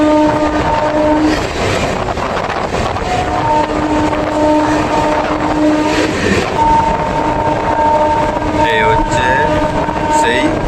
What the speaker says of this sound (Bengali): দেখুন কীরকম গতি নিয়ে স্টেশন ক্রসিং করে দেখুন।